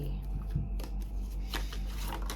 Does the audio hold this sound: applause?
no